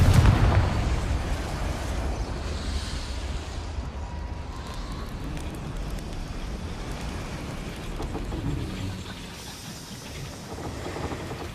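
Confringo fire spells burst repeatedly in Hogwarts Legacy, with dense crackling blasts and rumbling impacts overlapping in a continuous noisy barrage, loudest at the start.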